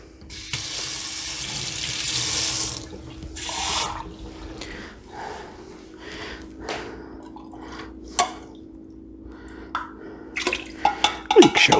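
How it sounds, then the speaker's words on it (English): Water runs from a kitchen tap, poured into a pot of meatball stew: a steady splashing stream with dripping and clattering, fading into intermittent drips and knocks near the end. "I'm just going to get a little water."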